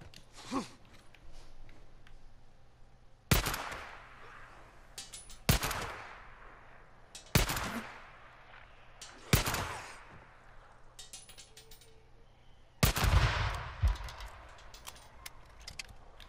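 Rifle shots in the video game Days Gone ring out one at a time at a steady pace, about six loud sharp cracks, each trailing off in a decaying echo over quiet background hum.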